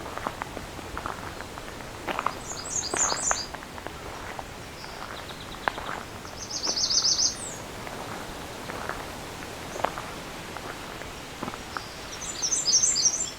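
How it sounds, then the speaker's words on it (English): Songbirds, including American redstarts and sparrows, sing in short high chirping phrases scattered over a soft outdoor background, some repeated several times, fairly faint and distant. "So there's a couple American redstarts here now."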